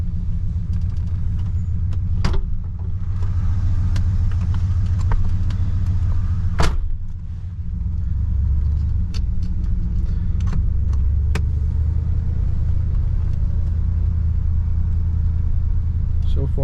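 A 1971 Cadillac Deville rolls along on a test drive, its engine a steady low rumble from inside the cabin, broken by a few sharp clicks and knocks.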